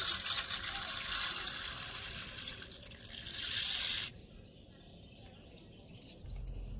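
Sago pearls get rinsed in water, a loud rushing tap stream and splashing in a sink for about four seconds that stops abruptly, followed by quiet room sound with faint bird chirps.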